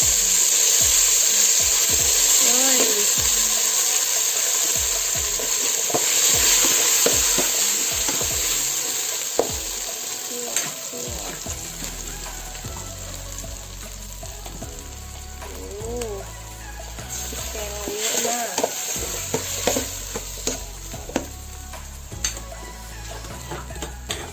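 Curry paste stir-fried in a pan with fried garlic for a Thai rice-noodle curry, a loud continuous sizzle with frequent scraping and clattering stir strokes, busy at first and then a bit quieter.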